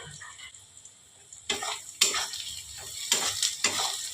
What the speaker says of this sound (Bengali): পেঁয়াজগুলো আমার ভাজা হয়ে গেছে।